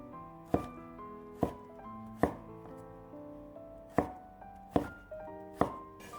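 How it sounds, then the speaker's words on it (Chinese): A knife chops a cucumber into diamond-shaped slices on a cutting board, giving seven crisp, close thunks at uneven intervals, each followed by a short ringing decay. "将头尾切掉，再将黄瓜斜刀切成段，最后改刀切成菱形片"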